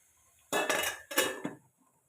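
Two short scraping strokes of a utensil against a cooking pan while stirring beetroot palya, close and fairly loud, separated by a brief pause, with no talk.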